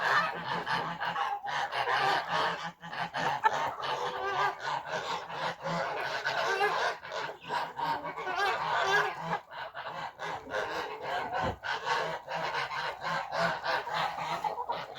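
A flock of village geese honks continuously for the whole stretch, a dense, nasal chorus of overlapping calls at moderate distance during mating season in cold weather.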